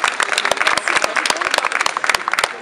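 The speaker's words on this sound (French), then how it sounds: "on peut l'applaudir très fort" Audience applauding a young woman volunteer picked from the crowd at a live show, a fairly close burst of scattered, uneven hand claps with some voices mixed in throughout.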